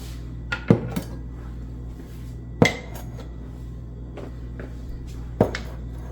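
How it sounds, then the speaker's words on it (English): Pickles packed into glass jars in a home kitchen, with a few sharp glassy clinks and knocks spaced apart over a steady low background hum. "I'm gonna go ahead and fill up our jars with our pickles."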